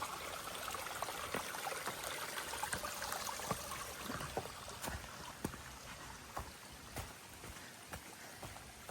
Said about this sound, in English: Just trickling down.